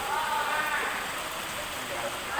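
Heavy rain pours down in a steady, dense hiss that fills the whole stretch without a break, with faint voices underneath.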